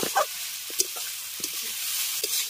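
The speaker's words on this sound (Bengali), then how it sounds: "নারকেল কোড়াটা দিয়ে খুব ভালো করে কষিয়ে নেব" Ash gourd stir-frying with grated coconut in a pan, a soft steady sizzle broken by several short scraping stirs of the spatula, close and fairly quiet with no talk.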